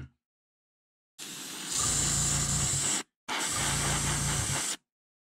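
Airbrush spraying paint onto a jerkbait fishing lure through a stencil: two steady hissing bursts of about two and a half and one and a half seconds, with a brief gap between them and a low compressor rumble underneath.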